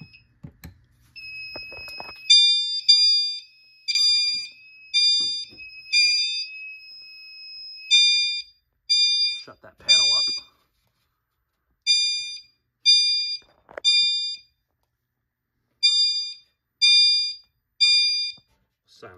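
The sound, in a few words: fire alarm chime strobe triggered by smoke detector test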